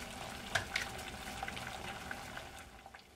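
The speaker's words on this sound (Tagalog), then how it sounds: "Kumukulo na." Water boiling in a saucepan with spinach, a soft, busy bubbling with small crackling pops scattered throughout, quiet and with no voices.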